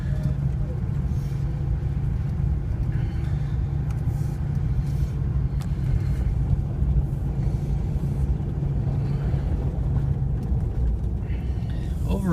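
A 2009 Ford Crown Victoria Police Interceptor with about 77k miles drives along, its steady low engine and road rumble continuous and fairly loud from inside the cabin, with someone talking over it.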